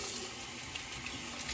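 A straight razor gets a quick rinse under a running tap, giving a steady, fairly quiet splash of water with no voices.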